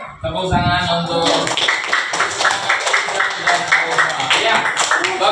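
Children clapping together in a school classroom, a brisk rhythmic burst of hand claps following a brief spoken line, with voices mixed in.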